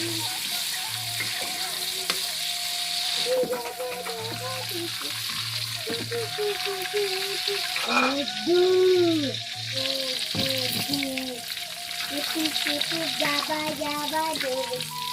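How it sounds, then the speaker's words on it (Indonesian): Sambal chili paste sizzles and fries in a pan while being stirred, a steady crackling hiss, with a tonal voice or music running underneath. "Kita goreng sambal."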